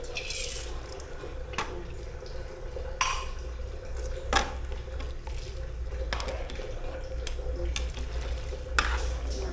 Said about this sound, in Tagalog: Lalagay po tayo ngayon ng atsuete.